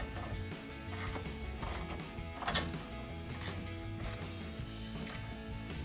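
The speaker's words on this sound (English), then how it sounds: "So I'll get this started with just a regular ratchet and a wrench, both 19 millimeter" Bolts on Jeep Gladiator JT sway bar links being tightened with a 19 mm ratchet and wrench: quiet, close mechanical ticking and clicking in short irregular runs, with brief metallic clanks.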